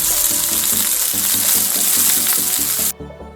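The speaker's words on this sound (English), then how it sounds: "Since the meat is already cooked on the inside, you just need to brown the outside." Steak and mushrooms brown in a hot pan, a loud, dense, close sizzle with rhythmic low thumps underneath, cut off abruptly near the end and leaving a quieter tail.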